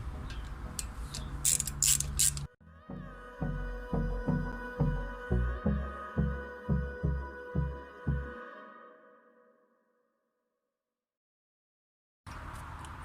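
A ratchet driving a size 4 Allen socket bolts down the cylinder heads of an Audi 2.8 V6 onto a 2.7T block, giving a run of about a dozen evenly spaced clicks that slow and fade out, close up with no talking.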